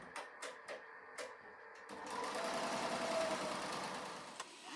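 An embroidery machine runs a placement stitch for applique fabric. A few sharp clicks come first, then a steady, close mechanical whirring and chattering that keeps going until the end.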